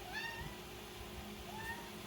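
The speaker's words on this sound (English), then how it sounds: "Come here, Scrap Cat." A pet cat meows several times indoors, the calls rising and falling over a steady background hum, with some faint voice-like sounds nearby.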